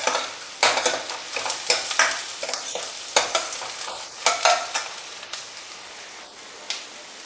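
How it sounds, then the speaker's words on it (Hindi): Onions fry in a pan for a whole masoor and carrot dal, a steady close sizzle broken by frequent scraping strokes of a spoon stirring them. "प्याज हमारा अच्छी तरह से भुज चुका है।"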